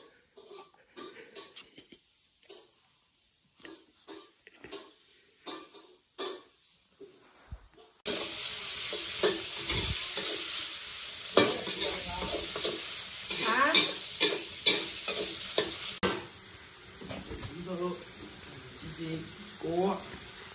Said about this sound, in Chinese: 胖大厨炒菜， 起锅起锅烧油